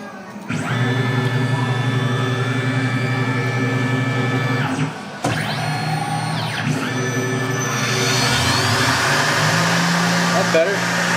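A CNC mill spindle at 10,000 RPM engraves hardened CPM S90-V steel at 61 HRC with a .02 ball endmill, a loud steady whine with tonal hum throughout, a brief pause midway, then a harsher hissing cut toward the end.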